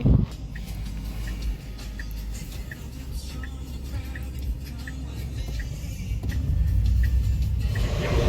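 A black Tesla car pulls up on a city street, its low rumble and tyre noise building steadily and growing louder toward the end amid ambient traffic.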